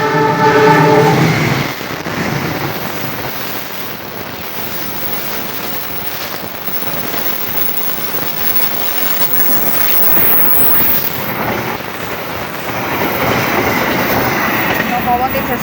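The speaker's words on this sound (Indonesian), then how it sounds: "Lokomotif CC206 kereta api Kertajaya." A CC206 locomotive hauling the Kertajaya passenger train passes close by, opening with a loud horn blast and then a steady heavy roar of rolling wheels and cars that swells slightly toward the end.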